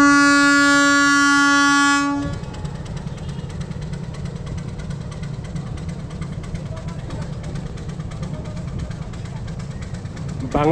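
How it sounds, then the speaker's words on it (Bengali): A train on a line near Lalmonirhat in northern Bangladesh sounds a loud, sustained horn, then rolls past up close with a steady rumbling clatter of wagons that lasts to the end, under a speaking voice. "ভাবতেও পারি নাই কিছুক্ষণের মধ্যে লালমনিরহাট এবং কুড়িগ্রাম এই 2 লাইনের 2টি ট্রেন এখানে বসে বসেই দেখতে পারবো"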